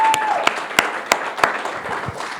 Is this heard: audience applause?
yes